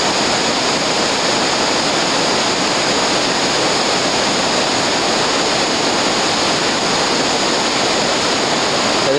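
A waterfall on the Nymboida River roars as a constant, dense, loud rush of falling water, steady and unbroken throughout with no voices.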